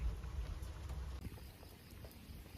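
Heavy rain falls during a typhoon as a steady, soft, even hiss that never lets up, heard alone with no talk.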